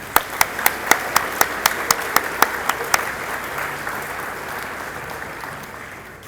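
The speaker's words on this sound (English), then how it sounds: "another round of applause to them, please" Audience at an eighth-grade recognition ceremony applauds the choir, band and orchestra performers, opening with a few sharp, evenly spaced claps near the front before swelling into sustained crowd applause that slowly fades.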